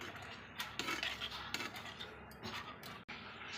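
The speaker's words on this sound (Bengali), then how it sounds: "একটু নেড়ে দেবো।" A spoon stirring fish curry in a pan after water has been added, producing a few soft scraping and clinking strokes against the metal, fairly quiet and close with faint background noise and no talking.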